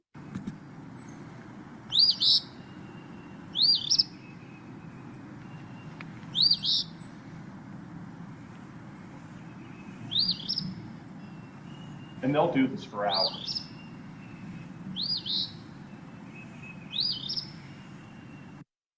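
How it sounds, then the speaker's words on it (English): A phoebe sings its rolling two-part song in spring woods, about seven short bright bursts spaced a couple of seconds apart, clear and fairly near while someone talks over much of it. "Even more distinctive than the bird visually is the song, which is this rolling Phoebe, Phoebe, Phoebe, Phoebe."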